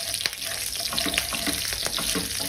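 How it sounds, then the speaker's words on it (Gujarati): Mustard seeds crackle and pop in hot oil alongside chopped green chillies, a dense, close sizzle with rapid irregular snaps throughout and no talk. "તો એકદમ સારી રીતના રાઈને ફૂટવા દઈશું"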